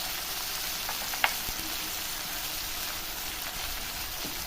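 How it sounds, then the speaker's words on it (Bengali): Flat beans with chopped onion and turmeric fry in a pan, a steady close hiss of sizzling oil throughout with one sharp clink of a utensil against the pan. "সাথে শিমগুলো ভেজে নেব, কষিয়ে নেব।"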